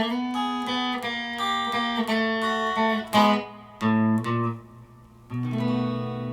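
A guitar plays a descending blues rundown in plucked notes, clear and close, with short pauses between phrases.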